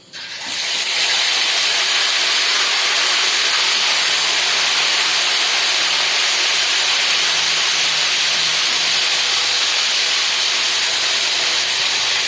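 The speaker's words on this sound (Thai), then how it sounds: "เราทำการทอดหมูนะครับ เอาลงเลยครับ" Pork dropped into hot oil for seafood fried pork, erupting into a loud, steady sizzling hiss that continues unbroken at close range with no talk.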